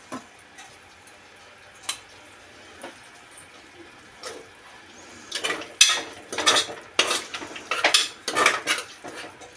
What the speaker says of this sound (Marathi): आता त्यात वाटाणे टाकूया।